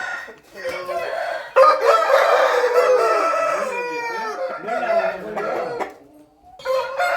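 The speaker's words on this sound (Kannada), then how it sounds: "ನೋಡಿ ನಮ್ಮ ಮುಬಾರಕ್ ಭೈ ಒಂದು ಹುಂಜ ಎತ್ತಿದ್ದಾರೆ." An Aseel rooster on a farm crows loudly and close by in long drawn-out calls, with clucking between them.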